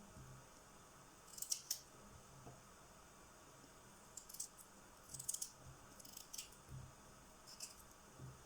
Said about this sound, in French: je m'occupe de découper en rondelles les carottes